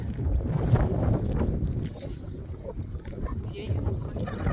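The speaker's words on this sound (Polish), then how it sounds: "Wieje." Wind on a mountain used for gliding roars as a loud, low buffeting rumble against the microphone, swelling and easing in gusts, with a voice present at times.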